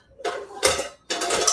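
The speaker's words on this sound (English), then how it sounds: "See Satan trying to throw pots and pans." Pots and pans clatter in two loud, close bursts of ringing metal, separated by a short silence.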